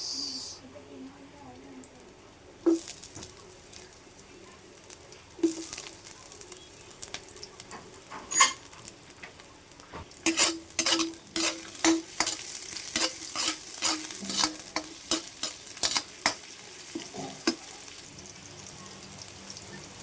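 Onions go into a pan with ginger for a squash and string bean coconut stew with shrimp, giving a soft sizzle and a run of clattering spoon strokes that grow busier toward the end, close by and with no talk.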